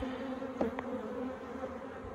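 Honey bees working a Flow Hive 2 give a quiet, even buzzing hum, with one soft double knock partway through and no voices.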